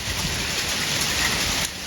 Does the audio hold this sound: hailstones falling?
yes